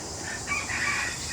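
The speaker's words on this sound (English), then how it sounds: "Okay, here's your chicken. Let's take a look at your chicken here." A chicken at a sheep farm in Lampang province calls in a short, fairly close burst of clucking over steady outdoor background noise.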